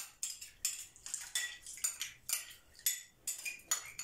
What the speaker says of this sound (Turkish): Onu da şöyle kaşık yardımıyla tenceremin içerisine alayım.